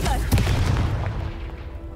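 A Confringo fire-blast spell detonating in Hogwarts Legacy: a single loud, close boom with a sharp crack at the start, fading into a rumbling tail over two seconds.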